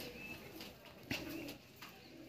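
A pigeon coos faintly inside a loft, one fuller coo standing out midway among softer murmurs against a quiet background.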